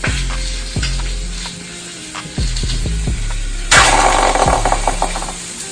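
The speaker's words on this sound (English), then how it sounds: "So we're gonna take it, throw it in the pan. I like that sound!" Loud bursts of sizzling as chicken thigh pieces hit a hot pan, with thumps and clatter in between, the hiss swelling louder near the end.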